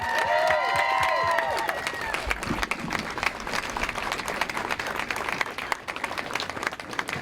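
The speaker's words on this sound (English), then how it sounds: "Would everybody please give a nice round of applause to John and Brenna Fierno and their 3 young children." An outdoor crowd at Ohio Stadium breaks into sustained applause for a family being honoured, dense clapping and some cheering that stays loud throughout, with brief whistling or cheers at the start.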